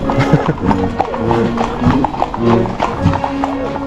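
Hooves of Mecklenburg horses clip-clopping close by in a steady walking rhythm, loud and continuous, mixed with crowd noise and some voices in the background.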